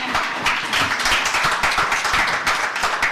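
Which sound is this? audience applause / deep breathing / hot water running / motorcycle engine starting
audience applause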